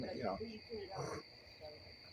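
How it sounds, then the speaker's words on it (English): Crickets chirp in a yard at night, a thin steady high trill running throughout, faint and distant beneath low murmuring voices. "I hear some crickets."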